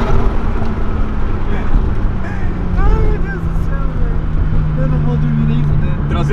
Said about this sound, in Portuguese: Essa passada de primeira pra segunda eu amo, velho. Ela dá uma grudada no banco, maravilhosa.